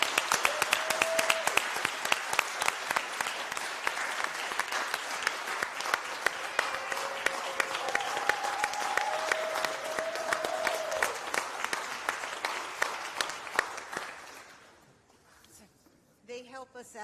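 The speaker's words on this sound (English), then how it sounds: "a really big round of applause needs to go to" Crowd at a Greensboro city council meeting claps steadily for a long stretch, with scattered voices beneath; the applause fades near the end, leaving quiet murmurs and a few isolated sounds.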